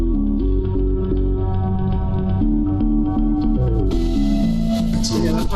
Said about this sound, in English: It automates the gate so that it has this like stutter sound effect.